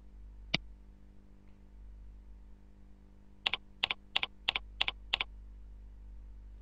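A password being typed on a computer keyboard to add an email account in IncrediMail: one isolated key click, a pause, then a quick run of about seven crisp, evenly spaced keystrokes close up in a quiet room.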